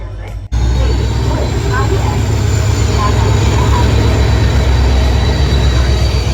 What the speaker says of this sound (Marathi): ट्रेन पण येलेली आहे टायमावर